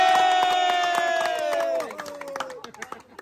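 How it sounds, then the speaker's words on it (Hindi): A small group at an informal tea party claps and cheers. One loud, drawn-out whoop slides downward in pitch over rhythmic hand claps, then breaks into scattered claps and shouts. "सारा सारा क्रेडिट एक बार भानु के लिए तालियां।"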